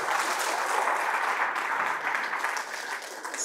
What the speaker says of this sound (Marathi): माझ्यासाठी पण एकदा टाळ्या वाजवा